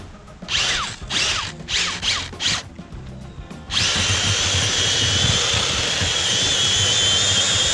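A power drill boring under an old sidewalk to install pipe whines in several short bursts, then runs steadily and loudly without pause, its high-pitched motor hum sustained to the end.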